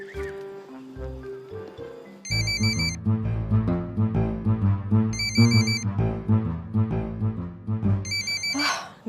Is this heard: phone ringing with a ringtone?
yes